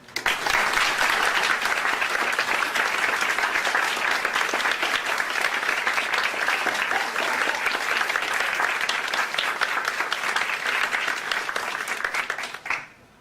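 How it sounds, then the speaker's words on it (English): Sustained applause from a large audience at a women's giving circle grant breakfast, steady and loud throughout, with dense overlapping claps that fade out at the end. "We would like to applaud your work this year."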